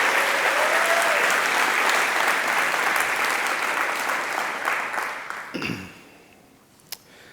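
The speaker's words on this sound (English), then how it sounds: "special round of applause for all of them" A conference audience applauds lightning talk speakers, a full room of sustained clapping that gradually thins and stops near the end, leaving a faint room murmur and a final stray clap.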